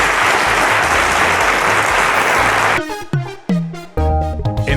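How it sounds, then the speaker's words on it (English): Audience applause at a televised quiz show honoring teachers, a dense, loud clatter of clapping hands filling the first three seconds before giving way to music. "Ladies and gentlemen, a round of applause to our teachers once again."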